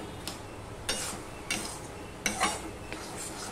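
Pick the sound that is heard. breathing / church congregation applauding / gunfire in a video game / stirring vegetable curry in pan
stirring vegetable curry in pan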